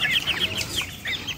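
Serama rooster giving short, high-pitched bursts of calling, repeated several times in quick succession, close and fairly clear over faint background.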